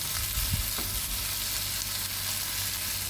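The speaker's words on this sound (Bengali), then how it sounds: "ভাজা হলে এর মধ্যে পাট শাকটা দিয়ে দেব পাট শাকটা হালকা একটু নেড়ে চেড়ে নেব এই আদার সাথেই" Jute leaves frying with ginger in a pan give a dense, close sizzle with light stirring, steady and loud for a few seconds without any talking.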